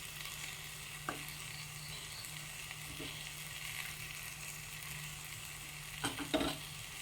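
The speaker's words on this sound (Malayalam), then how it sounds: "ഒരു ചട്ടിയിലേക്ക് മസാല പുരട്ടി വെച്ചിരിക്കുന്ന മീൻ ഇട്ട് കൊടുക്കാം." Masala-coated fish frying in a clay pan gives a quiet, steady sizzle, with a few soft knocks and scrapes from the pan near the middle and end.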